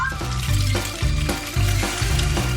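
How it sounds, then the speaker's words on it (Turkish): A ham and cheese sandwich fries in a pan with a loud, close sizzle that pulses and swells in short bursts, with no talking. "Daha da lezzetli olması için tavada kızartıyorum."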